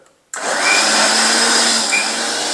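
A kitchen mixer grinder whirs steadily as it blends cream with cold water to churn butter for homemade ghee, starting abruptly after a brief quiet moment and holding a loud, even motor drone.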